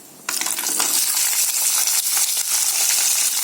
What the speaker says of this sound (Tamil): சுண்ட வத்தல் நல்லா பொரிஞ்சிருச்சு